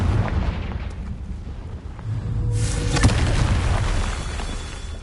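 A Confringo blasting spell bursts in Hogwarts Legacy with a sharp, booming explosion. It rises out of a steady rumble of background noise and is followed by a brief sizzling crackle.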